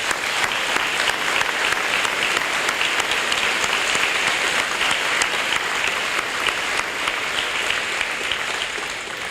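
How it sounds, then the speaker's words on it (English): A community meeting audience gives dense, sustained applause for first responders and service providers, an even wash of many hands clapping at steady volume throughout, with no voices standing out. "Please join in me in a round of applause to our first responders and service providers"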